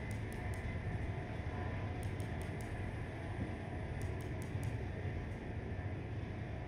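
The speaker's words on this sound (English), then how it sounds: "I can see us derailing this train, because it just accelerates so quickly" Train from the Train Life railway simulator game rumbling steadily with a dense, continuous low roar, with brief clicking ticks recurring at intervals; no voices.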